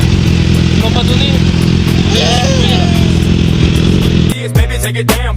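A small 500cc motorcycle engine runs steadily and loud close by on a road in Phuket, Thailand, a continuous droning rumble that cuts off abruptly near the end, with voices talking over it.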